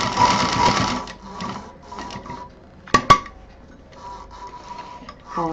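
A sewing machine stitches together fabric pieces of a hot pot pad, running in uneven bursts with pauses and a couple of sharp clunks partway through, close and fairly loud, without speech.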